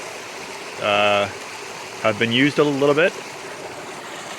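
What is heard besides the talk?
fast-flowing forest stream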